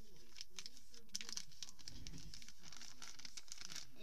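A sheet of paper folded by hand into a paper airplane, soft crinkling and rustling with brief crisp creases, close and fairly quiet, with faint background noise and no clear talking.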